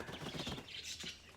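Birds flap their wings in rapid fluttering bursts inside a store, a brief, faint, busy flurry with soft chirps.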